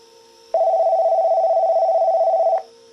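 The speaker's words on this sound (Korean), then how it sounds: "관리동에서 전화가 왔다." A telephone in a mountain lodge gives one steady electronic tone lasting about two seconds, clear and close, over a faint background hum.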